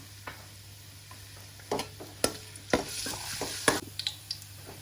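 Cauliflower and beef stir-fry in a hot, oiled pan: a quiet sizzle runs under irregular scrapes and clacks of stirring, close by and without talk.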